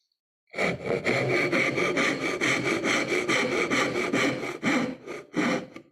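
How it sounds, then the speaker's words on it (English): A dovetail saw cuts dovetails in wood with quick, rhythmic back-and-forth strokes, close and loud, a steady run of rasping strokes followed by two short final passes, with no voices. "so that's all our dovetails are cut through. That's all the dovetail saw does for us, cutting those"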